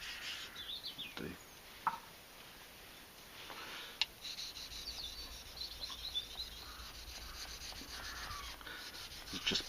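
A Mora Scandi knife blade is rubbed back and forth on a wet sharpening stone with slurry, giving soft rhythmic scraping strokes and a few light clicks, faint and close.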